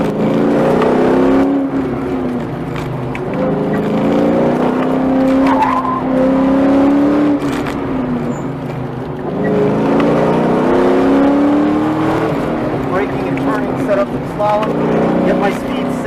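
An autocross car accelerates on cold 245 tires, its engine note climbing and falling in repeated surges while the tires scrub. It is loud and close, with talk running over it.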